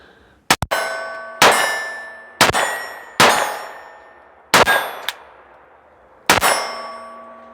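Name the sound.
bullets hitting steel targets at 20 yards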